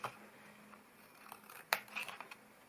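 Scissors cutting a 250 gsm double-sided card box lid, a few faint, quiet snips and crisp card rustles close by, with one sharper cut and a short cluster of snips toward the end.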